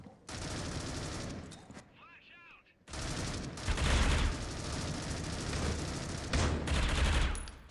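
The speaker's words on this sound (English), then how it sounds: "A lot of shots coming in" Video game gunfire during a bomb-defuse round, dense bursts of rapid shots and fusillades with a brief lull in the middle, loud and continuous, with no voices.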